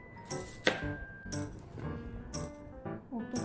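A knife cuts Gadhamar mango into pieces for pickle, giving a string of sharp, close chops and knocks at an irregular rhythm, with faint clinks of utensils between them.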